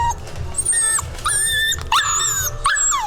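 A corgi puppy whimpers in a series of high, wavering whines, about five or six cries with short gaps between them, close and clear.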